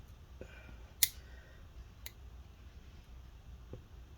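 Fingernails being trimmed, a few sharp isolated clicks of the clipper or scissors spaced a second or more apart, faint and close over a quiet background hiss.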